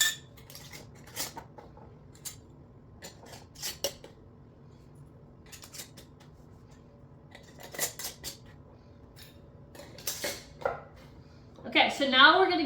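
Metal lids being set and screwed fingertip-tight onto glass canning jars of pulled pork shoulder: scattered light clinks and taps close by, ending in a brief louder metallic clatter.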